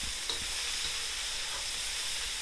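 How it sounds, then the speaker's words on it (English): Tofu sizzles and fries steadily in a hot pan of broccoli stir fry, a dense continuous crackle held close and loud throughout, with no talking. "stir fry is ready for the tofu, and we're going to put the tofu in"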